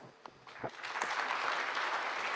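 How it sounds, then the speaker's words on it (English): Applause for youth representatives at a forum builds from a few scattered claps into steady, full clapping from a crowd, loud and continuous to the end. "Let's give them one more time a big round of applause"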